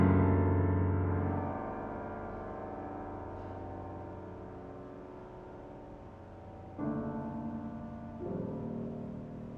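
A piano chord voiced low in the instrument's range booms and slowly decays, dark and resonant, followed later by a couple of further low chord strikes, close and alone.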